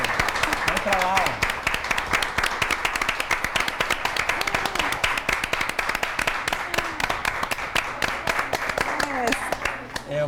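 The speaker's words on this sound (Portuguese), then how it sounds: "Eu aplaudo junto os meus colegas que estão lá atrás." Continuous applause from a crowd, dense rapid clapping filling the whole stretch, with a voice speaking faintly underneath.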